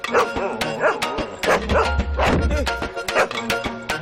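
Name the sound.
dog barking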